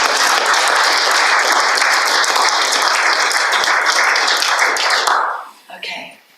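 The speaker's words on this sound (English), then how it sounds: "let's clap" A church congregation claps together loudly and continuously for about five seconds, then the clapping fades out and a voice begins speaking.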